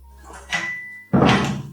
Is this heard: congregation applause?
no